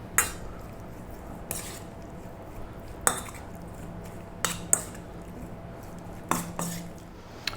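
Cubed beef tossed with salt, pepper, cumin, coriander, chili powder and a little oil in a bowl, giving several sharp clinks and scrapes of utensil against the bowl spaced a second or so apart over a soft wet shuffle.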